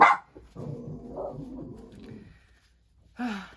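Dog barks from somewhere in a home during a morning skincare and makeup routine, a couple of brief bursts at the start and end of a short stretch, with a quieter muffled rumble of activity between them.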